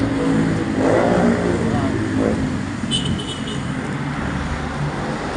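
Highway traffic passing beside a roadside food stall: a continuous low rumble of cars and engines with vehicles swelling past, under people talking nearby.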